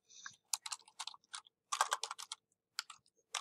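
Bursts of computer keyboard typing, closely miked, with clustered rapid keystrokes broken by short pauses, moderately loud in a quiet room.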